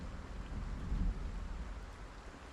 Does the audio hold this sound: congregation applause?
no